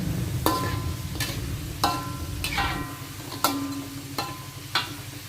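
Potatoes fry in hot oil while a metal utensil strikes the pan in a series of sharp, ringing clanks, with a low sizzling hiss underneath.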